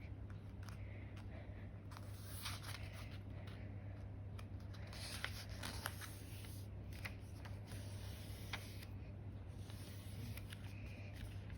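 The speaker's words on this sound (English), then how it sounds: "Now fold it again but from the other way." A sheet of paper is folded in quiet, continuous rustling and crinkling, with soft scratchy creases and brief crisp swishes close by over a low steady hum, with no talking.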